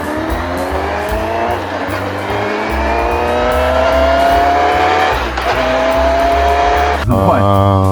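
A 2025 Honda CB1000 Hornet SP's engine revs loudly and close, its pitch climbing steadily through a long pull before dropping and surging again near the end, while someone talks over it.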